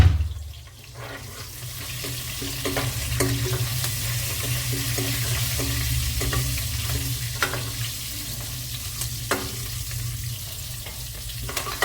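Fenugreek seeds and vegetables sizzle in ghee for a winter vegetable dish. A constant bright frying hiss runs throughout, broken by frequent clinks and scrapes of stirring in the pan.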